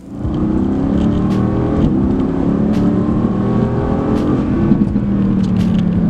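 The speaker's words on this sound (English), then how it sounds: "it offers plenty of performance and a great throaty exhaust note from the V8" V8 supercar engine accelerating hard, a loud, steady throaty exhaust note that holds throughout with a few faint clicks on top.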